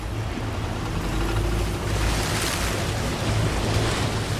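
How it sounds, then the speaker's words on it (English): Vehicle driving through a fast-flowing river about 2'6" deep, heard as a loud continuous rush and churn of water mixed with low engine rumble and wind buffeting, steady throughout with no talk. "We get into the middle of this fast-flowing stream at 2'6" of water"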